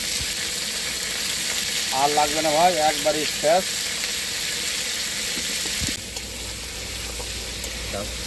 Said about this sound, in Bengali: মাংসটা ভাজা হয়ে গেছে